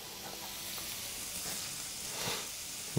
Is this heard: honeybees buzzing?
no